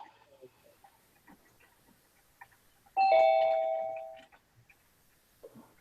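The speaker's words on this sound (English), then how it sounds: "I like the doorbell." A single electronic doorbell chime rings out clearly during an online meeting, its tone sustaining and fading over about a second amid faint room noise.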